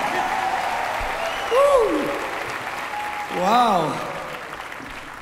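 Concert audience applauds a mariachi band, a steady wash of clapping and crowd noise throughout, with a voice calling out twice over it.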